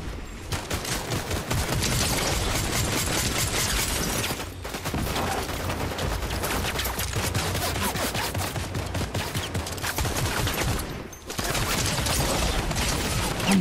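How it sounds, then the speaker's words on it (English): Dense, sustained gunfire in a Fortnite match, rapid overlapping shots and bursts filling the whole stretch loudly, with two brief lulls and no clear talk. "Oh my god, I'm getting shot from somewhere else now"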